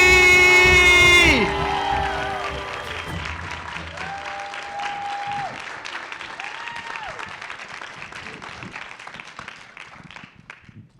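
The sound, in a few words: audience applause and cheering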